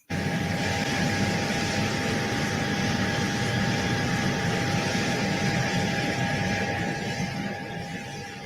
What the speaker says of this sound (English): Doesn't even sound like a helicopter. It sounds like a plane.